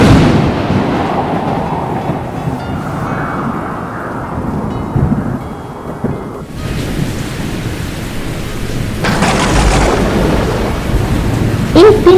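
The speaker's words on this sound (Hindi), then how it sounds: "एक दिन भारी बारिश हुई।" Heavy rain pouring steadily with rolling thunder, loud and dense, the rumbles surging and fading over a constant wash of rainfall.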